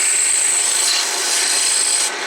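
Steady abrasive rubbing of sandpaper against wood spinning on a lathe while turning a lace bobbin, a continuous close hiss with a high whine running through it, no voices.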